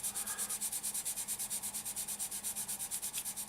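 Sanding stick rubbed back and forth over a plastic model car part for a Mad Max Camaro build, a quiet, fast, even rhythm of about seven gritty strokes per second, close and alone.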